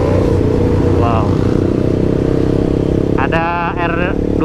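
A Yamaha R25 motorcycle engine drones steadily close by throughout, with harmonic whine bursts as it passes among traffic. A voice is heard briefly over the engine noise.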